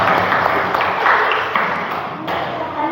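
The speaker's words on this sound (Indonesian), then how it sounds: "Tepuk tangan untuk kita semua." A classroom of students applauds together, a dense run of clapping with a few louder individual claps standing out, close and fairly loud throughout.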